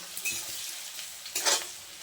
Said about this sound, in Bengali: পেঁয়াজটা আমি খুব ভালোভাবে নেড়ে চেড়ে লাল করে ভেজে নেব